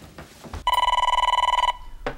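A telephone bell rings clearly in a home, a single sustained burst of rapid trilling lasting about a second, with brief talk before and after it.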